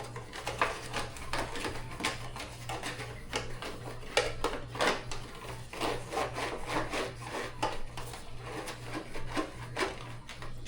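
Greasing a meatloaf pan with oil, a dry rhythmic rubbing and wiping that repeats steadily back and forth against the pan, close and fairly quiet, with a low steady hum beneath and no voices.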